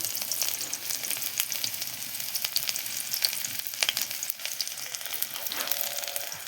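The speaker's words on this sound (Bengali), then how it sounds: "এবার পেঁয়াজটাকে পুরো লাল লাল করে ভেজে" Onions fry in hot oil in a wok while being cooked down for a Bengali mixed-vegetable dish, a steady close sizzle with occasional scraping stirs and no talking.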